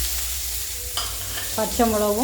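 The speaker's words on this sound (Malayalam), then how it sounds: "വറ്റൽമുളകും എല്ലാം കൂടെ ഇട്ട് ഒന്ന് വഴറ്റിയെടുക്കണം." Onion and green chilli sauté in hot oil with mustard seeds in a pan, giving a steady, close sizzle and frying hiss throughout. A voice speaks briefly over it near the end.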